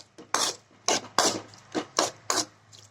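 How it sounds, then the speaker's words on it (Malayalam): A spoon stirring a salted tamarind pickle mixed with powdered asafoetida, giving about six distinct scraping strokes in an uneven rhythm, close and clear with quiet gaps between them. "ഇത് നല്ലതുപോലെ ഒന്ന് ഇളക്കണം."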